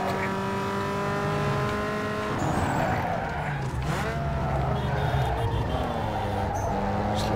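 A car sliding in the racing game Need for Speed Underground 2, engine droning steadily while tires squeal and skid through the middle, close and loud.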